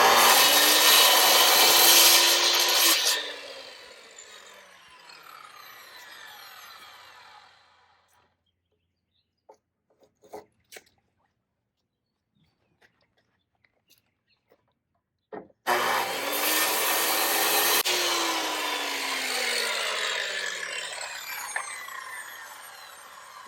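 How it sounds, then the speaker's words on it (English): A Skil circular saw cuts a wooden board during boat trailer repair, two loud close bursts of whining, rasping cutting separated by a long quiet stretch with scattered small knocks and clicks, no talking. "I just use the skill saw"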